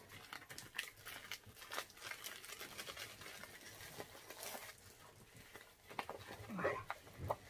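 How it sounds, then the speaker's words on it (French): A parcel from AliExpress holding a painted canvas is unwrapped close by, its plastic and paper wrapping crinkling and tearing in irregular bursts, with a voice speaking now and then. "Je vais vous la déballer."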